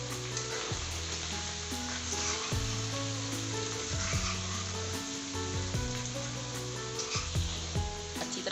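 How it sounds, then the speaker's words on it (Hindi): Ginger and garlic paste sizzles and fries steadily in a karahi for an Afghani aloo karahi, with a spoon stirring and scraping through it, close and continuous, without talk. "अच्छी तरह फ्राई कर"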